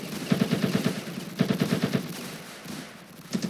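Rapid automatic gunfire in the video game Ravenfield, two sustained bursts of close, loud shots followed by scattered single rounds and another short burst.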